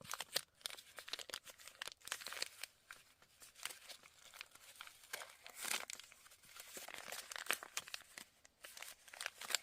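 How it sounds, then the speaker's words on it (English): A rolled-up sheet of Asian paper being unrolled, giving continuous close crinkling and crackling with irregular bursts of rustle throughout. "Okay, so I have this piece of paper here that's all rolled up."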